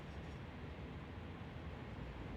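Trains rolling along rails in the factory-building game Satisfactory: a steady, low, dense rumble with no breaks, moderately quiet and continuous throughout.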